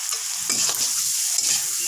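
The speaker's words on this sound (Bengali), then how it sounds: "এখন আমি এই ভেজে রাখা সোয়াবিন আলুগুলো এর মধ্যে দিয়ে দিচ্ছি" Previously fried soybean chunks and potatoes tossed into a hot frying pan, producing a loud continuous sizzle with stirring scrapes and shuffles over about two seconds.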